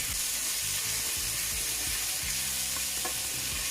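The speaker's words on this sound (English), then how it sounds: "So just stir up this for a few minutes, let it saute a bit." Seasoning with thyme and pimento sautés in a pan with a steady, dense sizzle, close and loud throughout, with occasional soft stirring scrapes on top.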